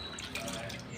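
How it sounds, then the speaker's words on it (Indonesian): Water splashes and drips as it is poured over tegu lizards in a reptile enclosure, a soft, close, trickling patter lasting about a second. "siram-siram ya, agar mereka bisa minum teman-teman."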